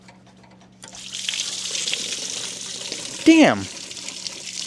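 Radiator coolant water gushing out after a hose clamp is loosened during a motor swap, a steady splashing pour that swells near the end, with a man's exclamation over it.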